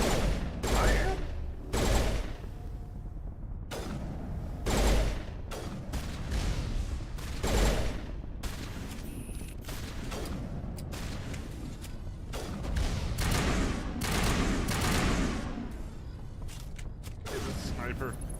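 Sniper rifle fire in the Mass Effect video game sounds as a series of loud sharp reports with mechanical clanks between them, while players talk throughout.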